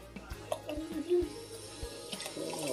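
Blended beef and vegetable soup with mushrooms is poured from a blender into a bigger can, a close, thick, gurgling glug with uneven splashes, and someone talks quietly over it.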